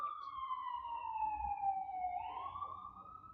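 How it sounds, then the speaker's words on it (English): Emergency vehicle siren passing outside during a quiet yoga session, a single faint wailing tone that sweeps slowly down and then back up, heard at a distance over low background rumble. "Sorry about the sirens, guys, if you can hear them."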